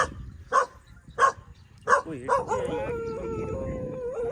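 A German Shepherd dog lets out three short yips, then breaks into a long, wavering howl, loud and close, with no talking over it.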